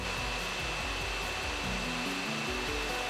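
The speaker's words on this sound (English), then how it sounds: "They're going to have to spin really fast, and it does kick up quite a bit of noise." Loud, constant whooshing of an Aorus X7 v6 gaming laptop's small cooling fans spinning at high speed, a steady airy roar with a faint high whine running through it.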